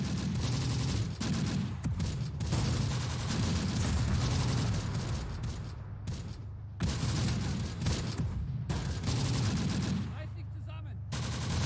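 Dense mortar and artillery fire roars through a battle in the Close Combat: The Bloody First war game, with rapid rattling gunfire and heavy booms running almost without pause, loud and close.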